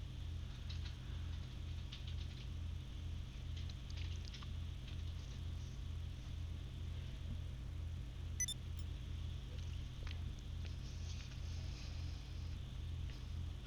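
Rally car engine in GTA V, a steady low pulsing idle rumble that holds throughout with a faint tick partway through and no talk.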